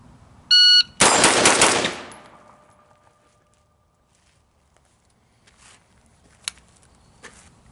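AR-15 rifle fired rapidly at close range after a beeping shot timer, a quick burst of loud cracks merging into one roar that rings off, then faint clicks and handling noises in quiet.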